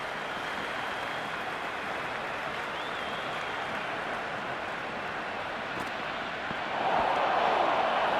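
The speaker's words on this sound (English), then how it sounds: "The crowd is electric right now." A stadium crowd in the cricket video game Cricket 26 roars in a continuous wash of cheering, swelling louder near the end.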